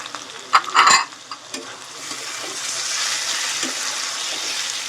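Chopped tomatoes tip into hot oil with a brief clatter and splash, then settle into a steady, moderate sizzle with occasional stirring noises while crab curry cooks.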